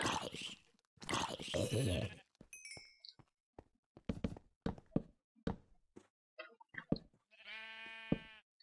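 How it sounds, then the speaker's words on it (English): Sheep bleating in modded Minecraft, a few short game bleats mixed with scattered knocks and clicks of play, close and clear against near silence. "Silly sheep."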